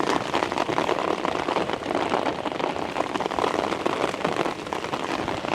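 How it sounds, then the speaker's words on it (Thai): Steady, dense rain pours down while kayak fishing on a lake, a loud continuous patter of drops hitting water and surfaces with no talk. "ตอนนี้ฝนตกเป็นที่เรียบร้อย"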